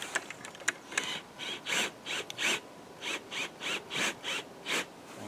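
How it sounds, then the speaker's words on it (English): A power drill driving a car jack to raise a log at a sawmill whirs in short repeated bursts, about a dozen quick grinding pulses with brief pauses, close and moderately loud, no talking. "I've got this car jack under here, and I found I can just use my drill to make it work faster."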